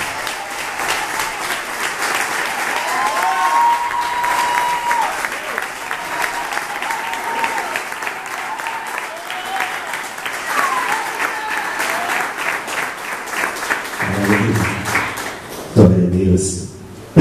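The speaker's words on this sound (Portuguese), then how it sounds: "Muito aplaudindo." A church congregation applauds at a worker anointing service, sustained loud clapping from a crowd that continues for many seconds before tapering off, with a voice speaking near the end.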